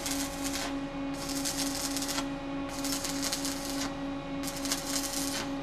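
A Vulcan 460-AP arc welder tacks metal in short bursts of harsh crackle, four separate strikes with pauses between them, over a steady electrical hum.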